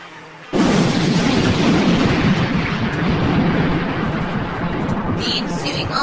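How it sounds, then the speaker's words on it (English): An enormous explosion from two fighters clashing fists in an anime. A sudden loud blast bursts in after a quiet moment and rolls on as a dense, sustained roar and rumble to the end. "creates an enormous explosion, one so large it can be seen from the planet's orbit"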